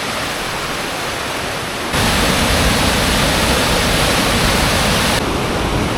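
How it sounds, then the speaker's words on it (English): A river rushing through a forested gorge, a loud, steady roar of flowing water that jumps up sharply in level partway through and then eases slightly near the end. "This river's incredible."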